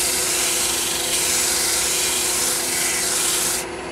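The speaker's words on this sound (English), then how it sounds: "I guess I'm running about 220 grit on this right now." Steady, close sanding of wood with 220 grit sandpaper while making a screwdriver handle, a continuous loud rasping rub lasting several seconds before easing off slightly at the end.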